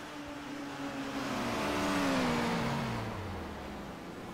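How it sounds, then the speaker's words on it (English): Race cars crossing the finish at Silverstone in a racing video game: a single engine drone swells and falls as a car passes close by, with steady engine noise throughout and no voices. "there's a few more cars are still coming through to finish the race"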